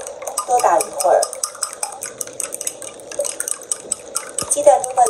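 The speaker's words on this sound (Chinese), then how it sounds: "再用筷子搅一搅，鸡蛋液、鸡蛋混合到一起，一定要迅速的搅动，多打一会儿" Eggs with the yolks broken are beaten briskly with chopsticks in a bowl, giving a steady run of quick, light clicks and scrapes up close.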